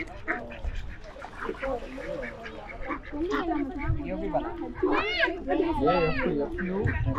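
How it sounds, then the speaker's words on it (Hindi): Several ducks quack loudly and repeatedly nearby at Al Rafisah Dam lake in Khorfakkan, Sharjah, their calls overlapping with a person talking and outdoor background noise. "यहाँ पर बतखें भी हैं"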